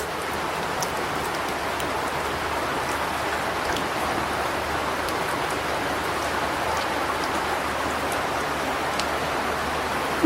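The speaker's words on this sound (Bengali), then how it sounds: "বাইরে অনেক বৃষ্টি" Heavy rain pours down outside in a steady, dense hiss that never lets up, loud and even throughout with scattered drops pattering close by.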